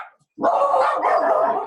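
Excited dogs barking at neighbors outside let out one loud, close, drawn-out howling bark lasting over a second, with a brief yip just before it.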